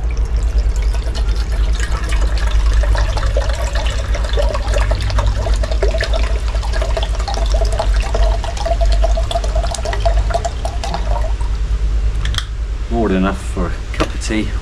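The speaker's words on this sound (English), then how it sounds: "We're going to add just, I think it's about 750ml of water." Steady stream of about 750ml of water pouring into a camping stove pot, a continuous close splashing rush that thins out near the end, with a voice speaking briefly.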